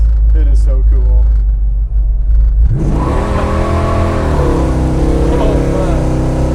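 A 1939 Chevy Master resto-mod pulls away hard, with the engine's roar climbing into a strong, rising rev close by as the car accelerates, and people talking over it.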